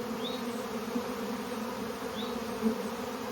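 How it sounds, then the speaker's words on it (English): Steady, dense buzzing of a honeybee swarm settling into a hive box fills the clip, continuous and close, with occasional individual bees droning past. "there's a lot of bees here."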